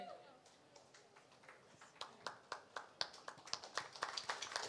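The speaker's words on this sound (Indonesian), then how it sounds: "Tepuk tangannya para penonton" Audience applause at a live event with a guest on stage, scattered claps at first that build into sharper, denser clapping, fairly distant and moderate in level.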